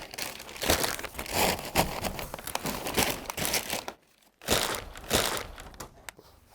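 Packaging material crinkles and rustles continuously as it is wrapped around the sides of an office chair's armrests during repacking of a Steelcase Gesture chair, with a brief pause midway.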